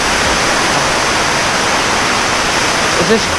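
Heavy water pours down the Taughannock Falls gorge near Ithaca in a loud, continuous broadband roar that stays constant and close throughout, with no voices.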